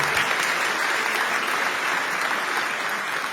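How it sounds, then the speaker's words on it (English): Sustained applause from an audience greeting former hurling manager Ger Loughnane at a live evening event, dense and steady clapping filling the room with no gaps. "So give him a round of applause, Chair Loughnane"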